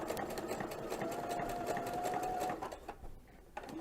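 A sewing machine fitted with a presser foot stitches slowly along curves, running as a steady close mechanical whir for most of the stretch before slowing and stopping near the end.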